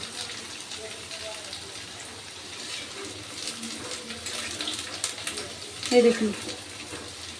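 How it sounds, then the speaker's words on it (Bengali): Water poured into a pan of fried chicken curry, a brief splashing pour near the end that follows a low sizzle, with someone speaking over it. "আমি কারি করব দেখে পরিমাণ মতো জল দিচ্ছি"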